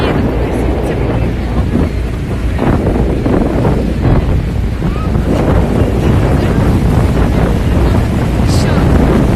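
Niagara Falls pours a massive body of water in a steady, loud broadband roar, with heavy wind buffeting the microphone throughout and no break in the rushing noise.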